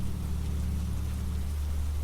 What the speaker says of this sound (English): A gentle rain now, each drop a small, perfect note